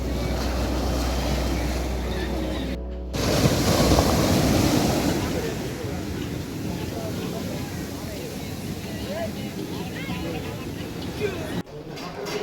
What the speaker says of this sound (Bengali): নিরবতায় এই গর্জন শুনতে ভালোই লাগছে